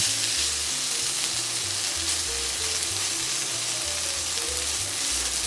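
Frozen potato hash browns fry in a pan with a loud, steady, continuous sizzle throughout, close up and without any talking.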